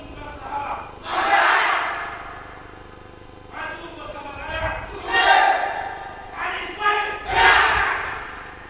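Supporters of candidate pair number 2 chant a rhythmic campaign yell at a 2015 regency head election debate in Bima, several loud bursts of crowd voices rising and falling with thumps and pauses between.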